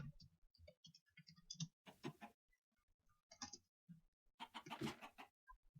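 Chickens in a farming video game cluck in short bursts, with several bird calls scattered across the clip, fairly close and mixed with busy game sounds.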